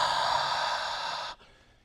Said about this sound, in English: if you exhale with the H sound